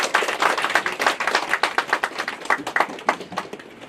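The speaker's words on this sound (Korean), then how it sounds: "이 시간 나오실 때 박수로 환영해 주시길 바랍니다." Brief burst of dense clapping and applause from a church congregation welcoming a guest pastor, sharp overlapping claps fading slightly toward the end, no voices.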